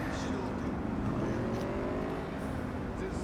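A car drives through the city in the video game Cyberpunk, its engine making a steady, moderately loud hum with a slight rising rev partway through.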